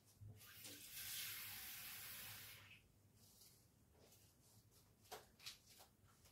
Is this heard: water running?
yes